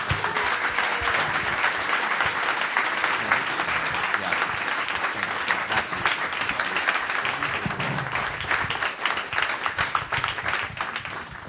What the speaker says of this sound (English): Can I get a round of applause for Shaka here, who did such a fantastic job